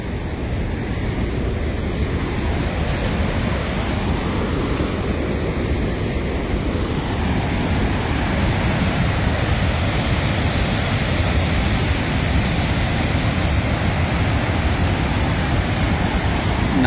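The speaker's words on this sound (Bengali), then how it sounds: "দেখতে পাচ্ছেন কি সুন্দর পানির আওয়াজ আপনারা পাচ্ছেন" Steady, dense roar of water pouring over Niagara Falls, loud and continuous with wind buffeting the microphone throughout.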